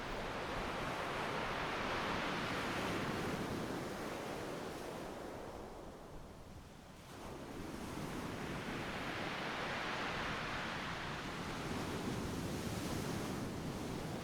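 Ocean waves washing up a flat sandy beach, a steady full roar of surf that swells, eases briefly in the middle, then builds again, with no voices.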